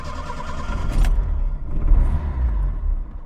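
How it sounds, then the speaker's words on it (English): A 1979 Fiat 127 Sport engine cranks and catches, settling into a loud, close, low rumbling idle with uneven throbbing and no talk over it. "start the engine up"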